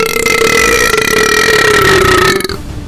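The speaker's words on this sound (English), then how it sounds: "Join me as I violate your ears with 100 burps." A single long, loud burp rumbles on for about two and a half seconds with a steady tone before cutting off, performed by a gamer as part of a burping compilation.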